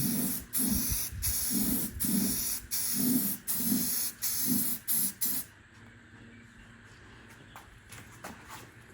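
Light dusting coats of spray paint on a jazz kit guitar under repair, about nine short hissing bursts in a steady rhythm, followed by quieter handling noises.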